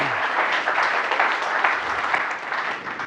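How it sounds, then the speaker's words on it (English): An audience at a live charity event applauds, a dense, steady wash of clapping that holds at an even level from start to finish with no talk. "can you give yourselves a round of applause?"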